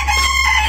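A hen sounds one short, loud vocal call up close, a brief nasal squawk alone with no talk.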